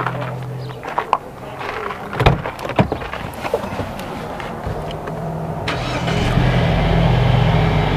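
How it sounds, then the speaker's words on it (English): A Jeep JL engine starting up: clicks and rustles of movement, then the engine catches and settles into a low, steady idle rumble that grows louder toward the end. "So let me go ahead and start up Eugene the Jeep."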